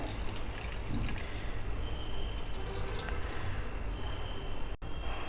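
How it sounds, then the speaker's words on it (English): Water draining from soaked barnyard millet: a continuous loud pouring and trickling rush lasting throughout, with no voices heard. "Then just drain out the water."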